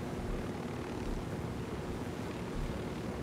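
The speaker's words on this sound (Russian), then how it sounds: "Как я могу гнать вертолет, если этот вертолет летит в воздухе еще и быстрее?" A helicopter flies in Ghost Recon Wildlands, its engine and rotor giving a steady, dense roar that fills the whole stretch at even loudness, with no talking.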